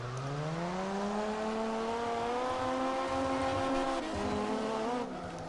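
A Toyota Supra drifts in the CarX racing game, its engine holding a steady high-revving whine that climbs slowly in pitch. Tire squeal rides over it continuously, with a short dip and shift near the end, and nobody speaks.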